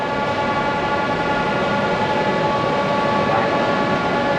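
Kuala Lumpur monorail train at KL Central station, a steady loud rumbling hum with sustained tonal whine, continuous and close throughout.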